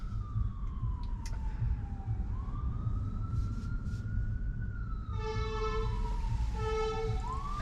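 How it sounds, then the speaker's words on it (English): An emergency vehicle siren wails past a car in traffic, a sweeping tone gliding down then up, followed by rapid yelping pulses; moderately distant over steady road and cabin rumble. "I do hear an emergency vehicle."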